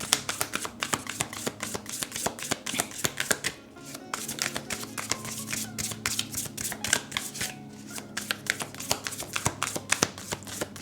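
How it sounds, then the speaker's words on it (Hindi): Tarot cards being shuffled continuously, a rapid rustling riffle of crisp flicks and taps that keeps going with short pauses, close and fairly loud, with no talking. "लेट्स सी आपके टैरो कार्ड्स यहाँ क्या कहते हैं पायल"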